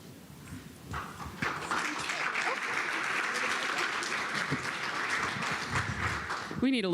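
Audience applause for award winners at the 2022 Innovator Awards ceremony, a sustained roomful of clapping that swells after the first second, with a brief voice or tonal sweep cutting in at the very end.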